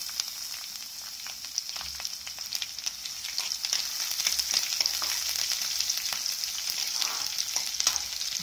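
Green chillies, Byadgi chillies and garlic fry in a pan for tomato gojju, making a steady bright sizzle broken by light stirring scrapes and crackles, with no talk.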